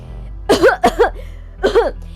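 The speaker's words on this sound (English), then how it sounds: "You begin to cough and your eyes start to water on command." Three short bursts of coughing, close and fairly loud, separated by brief pauses, with a low steady hum underneath.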